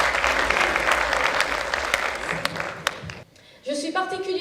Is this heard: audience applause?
yes